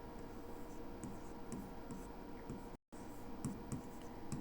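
Faint, scratchy strokes of writing on a board as a maths question is noted down, short irregular scrapes repeating steadily over a low background hiss, with no voices.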